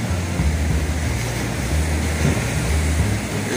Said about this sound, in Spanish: El oleaje está muy fuerte.